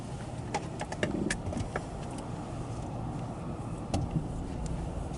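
A car drives along a road around Palatka, Florida, heard from inside as a steady low road and engine rumble with a few faint clicks and rattles, and no talking.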